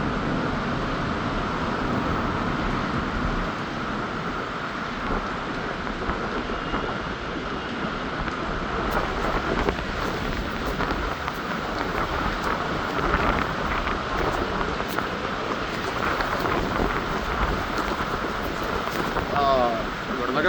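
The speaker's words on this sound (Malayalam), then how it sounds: "വെള്ളമൊക്കെ ബാൽക്കണിയിലേക്ക് അടിച്ചു തുടങ്ങി കാറ്റ് കാരണം." A storm drives wind and rain against a balcony in Dubai, giving a continuous broadband roar and rush that stays steady and loud with no clear breaks.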